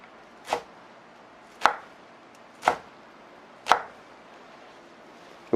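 A knife chops green onion on a cutting board, four sharp, evenly spaced thuds about a second apart, close and clear with no talking.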